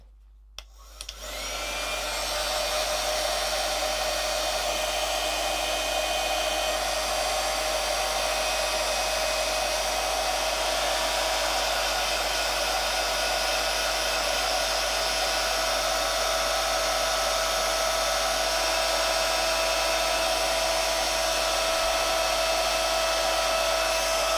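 A heat tool dries ink on watercolour card, blowing a loud, steady, high whirring hum close by for over twenty seconds with no talk.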